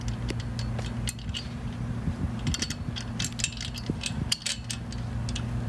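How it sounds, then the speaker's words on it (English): A bolt being tightened by hand on a trampoline bracket joining the net enclosure pole and W leg, with scattered close metallic clicks and light clinks over a steady low hum, no voices. "And then you start to tighten it."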